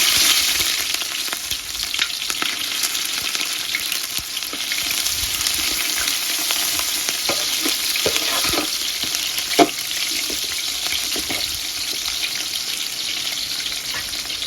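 Chopped onion frying in hot oil with cinnamon, cardamom, bay leaf and dried chilli, a loud, dense, unbroken sizzle close by with faint stirring and one small clack near the end.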